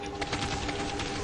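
Rapid automatic gunfire from the Kane & Lynch video game, a dense rattling burst of shots running continuously over about a second, loud and close.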